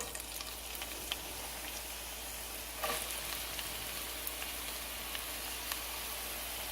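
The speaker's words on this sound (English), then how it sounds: "Okay, so my oil is getting hot. And now I'm just going to add some onions." Diced onions hit hot oil in a pan and crackle into a steady, bright sizzle that runs unbroken throughout, fairly close, with no talking over it.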